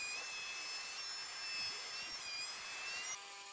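A router slot cutter cuts a 6mm wide slot along the full length of a mitred wooden joint on a coffee table top, giving a steady high whine that cuts off near the end.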